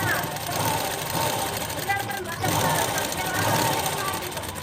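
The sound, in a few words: sewing machine stitching cloth for a long frock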